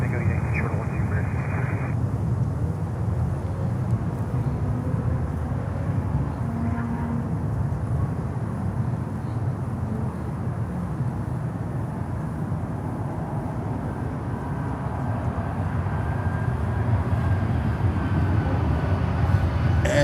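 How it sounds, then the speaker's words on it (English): A Boeing 737-800 airliner arriving at Miami airport gives a steady, deep engine roar that stays constant throughout, with faint radio chatter at the start. "737-800 coming in"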